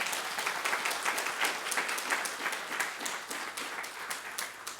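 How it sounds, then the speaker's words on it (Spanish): A church congregation applauds for Jesus, steady dense clapping with a few cheers that holds for the whole stretch, close and fairly loud. "¿Cuánto le dan un aplauso a Jesús?"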